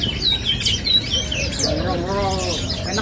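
Songbirds at a bird market kiosk chirp and trill loudly and close by in quick, high bursts, while people talk in the background.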